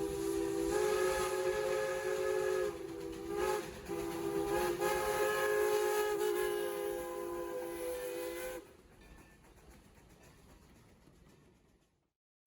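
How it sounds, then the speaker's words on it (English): Tremont & Gulf No. 30, a 1923 steam locomotive on the Texas State Railroad, sounds a long sustained steam whistle chord with brief breaks, loud and fairly close, then the whistle cuts off and the running noise fades away. "I would go back up to see Tremont Gulf No.30 running"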